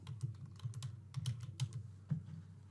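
Quick, uneven clicking of keys on a computer keyboard, close and fairly quiet, with a few louder taps in irregular bursts and no voices.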